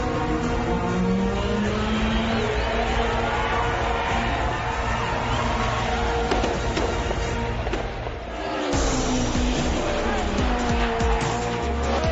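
A 1992 Mercedes 190E Evo 2 DTM race car in a racing game roars loud and continuously, engine pitch rising and falling through gear changes with tire squeal, and a voice talks over it.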